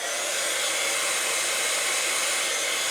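A hair dryer blows steadily on pewter castings coated with dye oxides, giving a constant, close, loud airy whoosh with no breaks and no talking.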